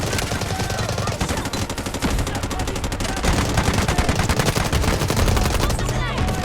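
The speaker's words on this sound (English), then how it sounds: "Artillery barrage incoming." Rapid, dense artillery and gunfire blasts pound continuously in a Delta Force Mobile warfare battle, loud and close, with booming impacts layered over crackling shots throughout.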